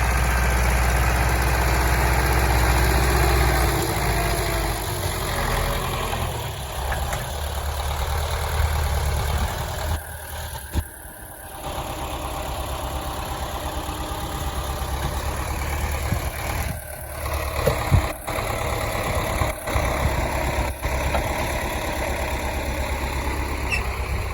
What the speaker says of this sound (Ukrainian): спускаюся на звук трактора.